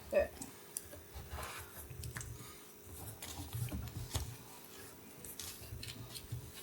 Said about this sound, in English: After she's done typing.